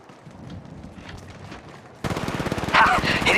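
Gunfire in Apex Legends Mobile: quiet, muffled action gives way to a sudden burst of loud, rapid automatic fire that continues close up to the end, with a brief game voice line heard over it.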